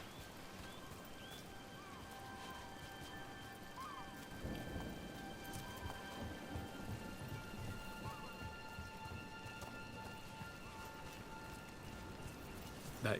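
Rain and a thunderstorm in the video game Dragon Age: The Veilguard, a steady wash of falling rain with a deep thunder rumble rolling in partway through, continuing alone without talk.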